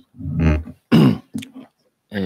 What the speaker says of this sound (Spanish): carraspeo constantemente